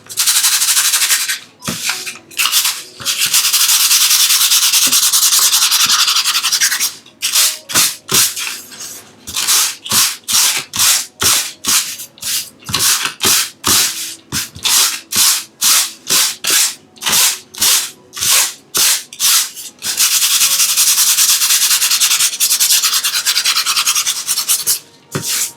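Sandpaper scrubs over a painting surface in close, loud strokes, with long continuous rubbing passages at the start and end and a run of quick, rhythmic back-and-forth strokes in between.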